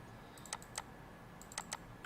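Computer keyboard shortcuts Ctrl C and Ctrl V tapped in a quiet room, a few soft clicking keystrokes in two small clusters, faint and close.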